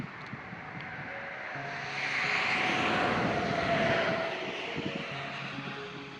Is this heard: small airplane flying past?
yes